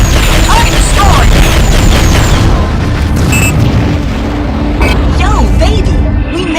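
A destroyed target explodes in the underwater combat game AquaNox, with a deep booming blast over dense rumbling battle noise and a few sharp electronic chirps.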